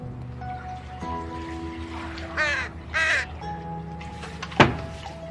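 A crow cawing outside a door, two loud harsh caws in quick succession followed by a sharp thunk, against a faint steady background hum.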